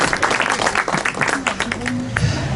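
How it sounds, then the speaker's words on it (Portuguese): Brief applause for a performer from an audience at a folk music gathering, clapping mixed with a voice speaking over it. "Salva de palmas para o Napoleão."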